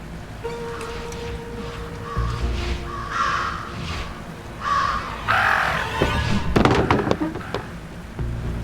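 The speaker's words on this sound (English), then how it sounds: "Talk about a murder of crows." Crows caw in the video game Jenny LeClue: several harsh calls come through between about 2 and 7 seconds, moderately loud over a steady game background, with a burst of thumps and clatter near the end.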